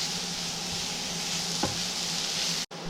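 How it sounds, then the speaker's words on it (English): Steady frying sizzle from a pan of 150 grams of chopped bathua leaves, with one brief scrape of stirring partway through. "We'll give quick mix to it."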